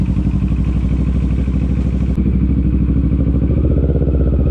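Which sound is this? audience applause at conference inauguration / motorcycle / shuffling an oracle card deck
motorcycle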